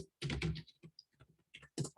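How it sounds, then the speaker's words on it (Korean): Keyboard typing on a computer during a spreadsheet class, quick bursts of close, clattering keystrokes separated by short pauses. "그냥 타이핑 칠게요"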